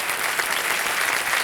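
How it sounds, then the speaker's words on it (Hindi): Applause from a studio audience on the KBC Season 14 quiz show set, greeting a contestant: a dense, steady wash of clapping, fairly close and even throughout, with no voices over it. "तालियां बज जाए इनके लिए जोरदार"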